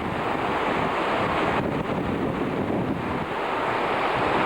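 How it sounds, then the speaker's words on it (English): Running water flowing down through a terraced village, a steady broadband rushing wash that stays loud and constant throughout with no voices. "There's a lot of running water."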